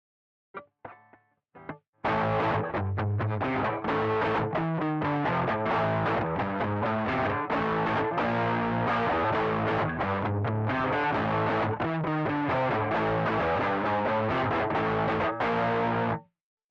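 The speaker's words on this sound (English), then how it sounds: "And now let's try it with a little bit of crunch, a little bit of distortion." Electric guitar, a Les Paul, with crunchy distortion plays a rhythmic riff of strummed chords, loud and continuous after a few quiet plucked notes.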